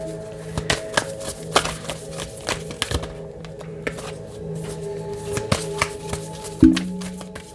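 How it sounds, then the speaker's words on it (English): A Star Codes Astro Oracle deck is handled with soft, irregular card slaps, flicks and taps up close, over a faint steady hum with no talking. "I'm pull a oracle card for a close-out message."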